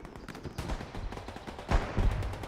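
Machine gun bursts in Hell Let Loose at the Siegfried Line in Hurtgen Forest, a fast ragged rattle of overlapping shots over steady battle noise, swelling louder near the end.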